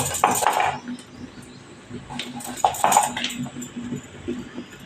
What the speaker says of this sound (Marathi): मी सगळी लिंब कापून घेते